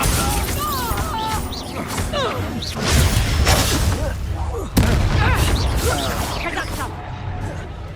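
Bombarda spell blasts in the Hogwarts Legacy video game, heard as a few loud booming crashes with whooshing debris, the sharpest near the start and middle, mixed with game voices talking.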